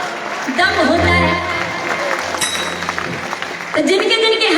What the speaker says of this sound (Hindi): तालियां वही बजाते हैं जिनके हाथों में